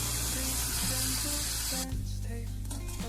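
Chopped onion lightly roasting in a pan for a spicy soya masala, a steady close sizzle that quiets partway through as the pan settles, with no talking.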